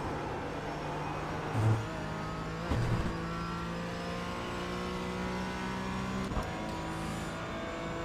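Race car engine in the iRacing sim at Daytona, a steady sustained drone with shifting pitch lines and a couple of brief louder swells, continuous throughout with no talking.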